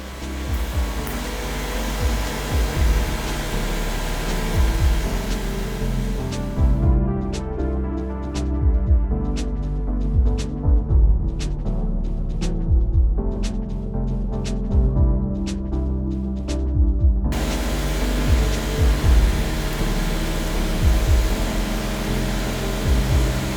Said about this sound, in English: I'm going to go ahead and weld these